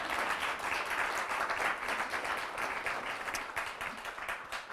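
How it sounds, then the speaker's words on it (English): Scattered audience applause from a spiritual talk crowd, a steady dense wash of clapping lasting throughout at moderate level, slowly thinning toward the end. "I heard that applause"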